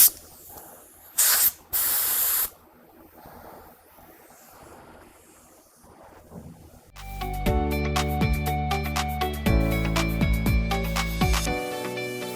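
Short bursts of spray primer hiss close up on the trunk pan of a 1972 Pontiac GTO, three quick blasts early on, then a stretch of quieter room noise before loud tonal sound takes over the second half.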